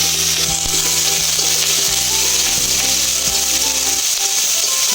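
Chopped capsicum and onion fry in hot refined oil in a kadai, a steady loud sizzle running throughout with background hum and occasional stirring clinks, no talking.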